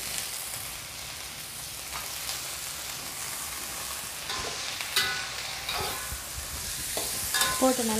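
Carrots and green beans sizzle in a hot pan while being stirred, a steady crackling fry broken by scraping stirs and sharper clinks that grow busier toward the end; no one speaks.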